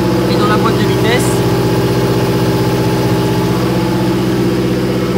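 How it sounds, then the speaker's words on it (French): A 4x4's engine runs steadily with diesel fuel in its axle and gearbox, a loud, constant idling drone with a deep rumble and slight vibration, heard up close with a brief high squeak near the start. "Là, je fais tourner le 4x4 avec du gasoil dans le pont et dans la boîte de vitesse."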